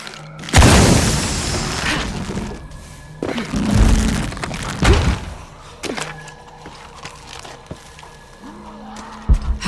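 Loud booming explosion in the video game Shadow of the Tomb Raider, a heavy blast followed by further rumbling impacts and scattered clanks over a game soundscape, with no talk.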